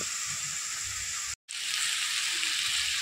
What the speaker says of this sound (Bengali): জিরে গুঁড়ো, লঙ্কার গুঁড়ো আর একটু মিট মশলা দিয়ে কষিয়ে নেব।